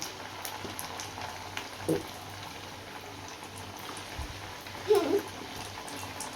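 Potato donuts deep-fry in a pan of hot oil, giving a soft, steady bubbling sizzle close by, with a few brief clinks and a voice speaking over it.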